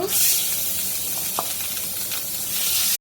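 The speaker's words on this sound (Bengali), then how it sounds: "বাকি মাছগুলো এইভাবে ভেজে নিব।" Rohu fish sizzles steadily in hot oil, a constant close hiss with a couple of faint clinks before it cuts off abruptly.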